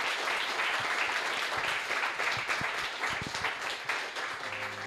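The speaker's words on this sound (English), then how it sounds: "Audience, give him a big round of applause here for an awesome robot." Audience applause for a robotics team at a robot build showcase, a dense, steady wash of clapping filling the whole stretch at moderate loudness with no talk over it.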